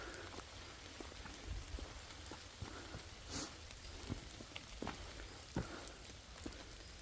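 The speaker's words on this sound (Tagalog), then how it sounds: "Malakas pa naman ang ulan." Heavy rain drumming steadily on a surface, with scattered louder drops and splashes across a dense, constant wash of noise.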